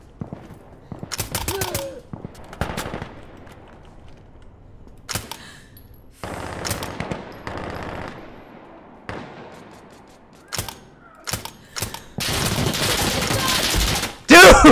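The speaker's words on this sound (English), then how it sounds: "I'm using the grease gun again" Grease gun submachine gun firing in the shooter game Insurgency: Sandstorm, with bursts of automatic fire and scattered shots at varying distances, broken by quieter gaps and ending in a long sustained volley.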